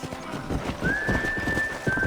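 In the video game Red Dead Redemption, hooves clip-clop at a steady trot while a horse lets out a long, high whinny over the hoofbeats.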